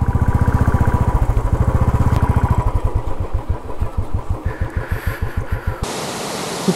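A motorcycle engine being parked near Baba Waterfall by Amboli Ghat chugs loudly and close in rapid, even thumps, slows into a looser putter, then cuts off and leaves only background hiss.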